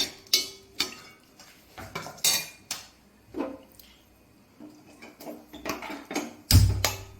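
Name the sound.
stirring jackfruit seeds with chilli powder, salt, turmeric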